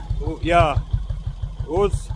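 A motorcycle engine idles while warming up, a close, loud, even low thumping that runs throughout while someone talks over it.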